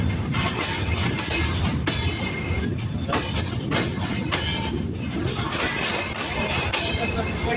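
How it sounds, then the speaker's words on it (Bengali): The Rupsha Express rolls slowly through Abdulpur Junction, with loud continuous rumble and rattling of the carriages, plus a voice talking over the noise. "রূপসা এক্সপ্রেস আব্দুলপুর দিয়ে এত স্লো গতিতে যাচ্ছে"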